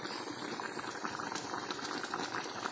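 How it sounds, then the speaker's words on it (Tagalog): Squash cooks in a pressure cooker, a steady, fairly quiet bubbling boil with a faint rattling undertone throughout and no voices. "Ako panggi pressure cooker."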